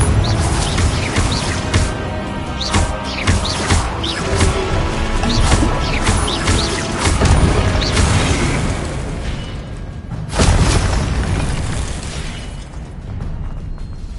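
Loud blasting bursts and crashing booms from the Confringo spell in Hogwarts Legacy, a dense run of impacts with a sharp fresh blast near the end and debris-like clatter trailing off.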